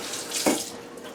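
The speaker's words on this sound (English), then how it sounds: "So I'm just going to do a quick wash of the hands." Water runs from a tap into a sink in a brief steady splash for a quick hand wash, with a short louder gush midway.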